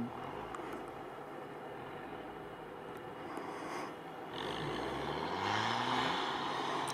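A GAZ-66 truck engine labours off-road, a low droning rumble that swells and rises in pitch as it revs toward the end, with faint talk nearby.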